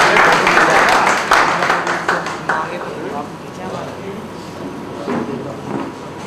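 Audience applause at a Hindi poetry reading (kavya path), dense and loud clapping at the start that thins out and fades while voices talk over it.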